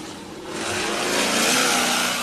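A big-bodied Chevy truck with a big motor, big lift and big tires revs hard on an off-road rock course, its loud, rising engine roar swelling over about two seconds, close by.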